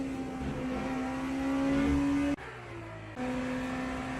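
The BMW race car in a Le Mans racing game revs and climbs in pitch with a steady high engine whine, cuts out abruptly on a gear shift, then picks back up and keeps droning at a constant note.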